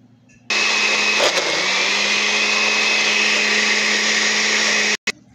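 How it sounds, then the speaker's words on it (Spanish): A kitchen blender crushing mango, ice and sugar into a slushy granizo, starting abruptly and whirring loud and steady for about four and a half seconds before cutting off sharply. "Ahora lo licuamos bien."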